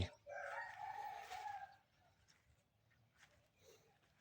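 A neighbour's rooster crows once in a cool, misty morning garden, one long clear call at moderate distance, followed by quiet outdoor ambience and faint bird sounds.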